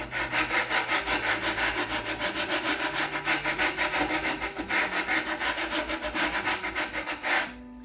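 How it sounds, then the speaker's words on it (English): Coarse sandpaper works along the square edge of a wooden lazy Susan during a furniture repair, giving a close, loud, rhythmic rasping in quick, even strokes that continue throughout without speech. "And I have a little bit rougher grade of sandpaper on this too, and it's checking to see where that edge is."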